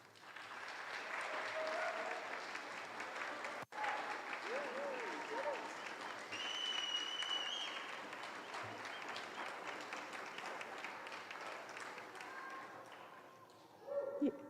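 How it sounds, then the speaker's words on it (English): Sustained audience applause filling a hall at a white coat ceremony for a medical speech-language pathology cohort, dense and steady for about fourteen seconds with a brief loud tap midway and a swell near the end. "Can I ask you all to stand one more time and we give you a round of applause?"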